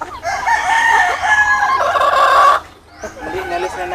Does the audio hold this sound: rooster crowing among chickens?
yes